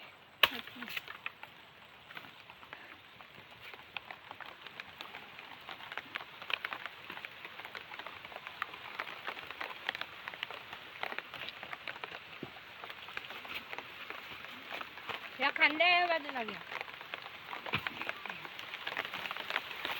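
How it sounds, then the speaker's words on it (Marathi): Rain falling outdoors in the Konkan countryside, a faint continuous patter spread evenly through the clip, with a brief louder rustle near the end and no clear speech. "तर पाऊस आला"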